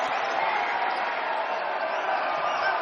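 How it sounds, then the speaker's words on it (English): Basketball crowd at the Spectrum arena roaring steadily after a dunk in a Texas A&M International at Utah State college game, a dense, sustained cheer filling the whole stretch at even loudness. "gets the biggest response from the crowd here at the Spectrum"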